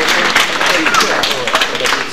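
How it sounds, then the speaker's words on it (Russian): Dense, steady crowd applause fills a televised Silver Lapot award ceremony in Bryansk, 1999, continuous and loud throughout with voices mixed in. "Бурные продолжительные аплодисменты"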